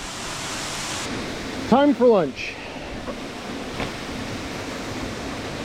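Lick Branch Falls in Alabama's Sipsey Wilderness gives a steady, broad rush of falling water throughout, with a person briefly speaking over it.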